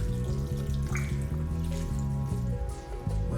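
Chicken broth poured from a pot over egg noodles and chicken pieces, a steady close splashing, trickling stream that runs throughout without pause.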